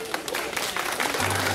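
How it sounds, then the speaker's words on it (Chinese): Outdoor audience at a park event for a children's energy-saving colouring contest breaks into a short burst of dense, crackling applause, with a voice audible beneath it. "我们给他掌声鼓励一下"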